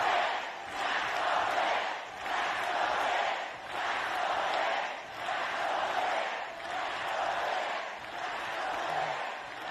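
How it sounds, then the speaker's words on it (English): A fired-up crowd at a political rally chants a two-beat slogan in unison, loud and close, repeating in steady waves roughly every second and a half with no single voice standing out. "This crowd is fired up."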